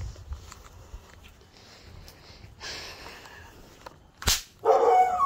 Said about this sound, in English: Neighbor dog.